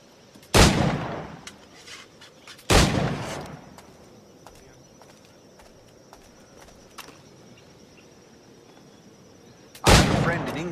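Firearm shots ring out in the pirate-era action game Assassin's Creed IV Black Flag: three loud, sharp blasts spaced several seconds apart over quiet background ambience.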